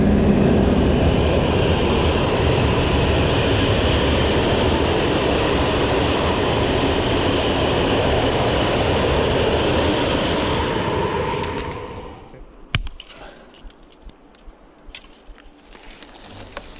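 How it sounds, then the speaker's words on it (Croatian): A train rumbles past close by on a railway line, loud and steady for about twelve seconds before quickly fading, leaving quieter outdoor sounds and a few clicks. "Evo voza."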